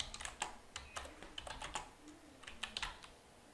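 Keystrokes on a computer keyboard while a terminal command is entered, a quick irregular run of light clicks and taps close by, ending in firmer strokes, with no voices.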